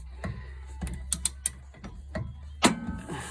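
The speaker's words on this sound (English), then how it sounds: "sounds like the wheel bearing" Work on a BMW E36 M3 rear wheel bearing during removal with hardware-store tools produces a series of sharp metallic clicks and clanks, irregularly spaced, with one louder knock near the end, close up over a low hum.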